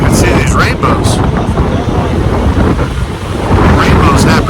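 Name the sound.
strong wind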